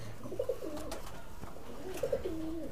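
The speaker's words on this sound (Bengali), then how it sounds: "এই যে এটা নর পায়রা" Male Madrasi highflyer pigeon in a loft, body fully white with red eyes, giving two soft rolling coos about a second and a half apart, close by over a low steady background hum.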